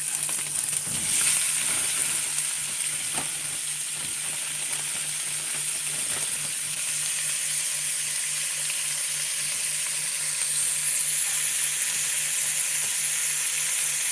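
Cubes of beef skirt steak fry in a pan with a steady, close sizzle. Broadband crackle holds evenly for the whole stretch, with a few sharper spits early on and no talking.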